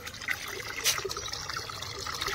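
Water running from a tap into a bucket, a steady close trickle and splash with a brief louder gush partway through.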